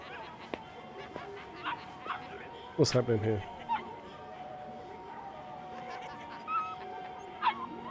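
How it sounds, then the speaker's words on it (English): In the video game Yakuza Kiwami, a puppy gives a burst of yips and whimpering barks near the middle, then a few quieter yelps, while people talk over the game. "Oh, it's a puppy."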